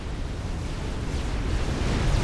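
Torpedo bombers strike in a 4v4 match of Supreme Commander: Forged Alliance Forever, producing a continuous, heavy low rumble of explosions that builds slightly in loudness over two seconds with no distinct separate blasts.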